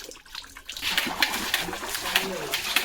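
Continuous splashing and sloshing of water as a dog plays in it, steady and close, with faint chirps in the background.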